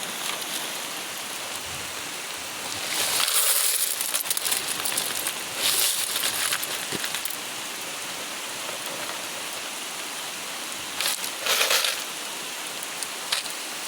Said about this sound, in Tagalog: Dito nga, malakas yung ulan